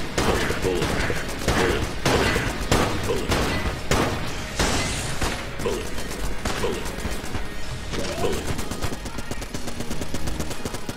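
Constant rapid gunfire in the video game Enter the Gungeon, dense overlapping shots and impacts filling the whole stretch at a loud, even level.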